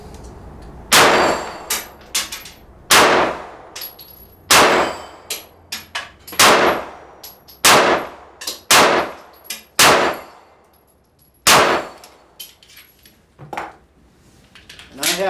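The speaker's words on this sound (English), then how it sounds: "We're going to shoot one more magazine" S&W M&P Shield Performance Center pistol fired at 6-inch steel plates about 15 yards off, each sharp shot followed by a ringing clang, about a dozen spaced irregularly and loud.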